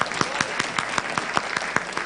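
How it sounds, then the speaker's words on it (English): Audience applause at an education conference, a dense wash of many hands clapping with rhythmic sharp peaks, steady and fairly close throughout. "You have to give her a big hand on that, please."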